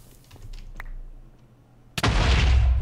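In a Minecraft modpack game, a sudden loud explosion bursts after faint scattered clicks, followed by a sustained roaring rumble of debris and blast noise.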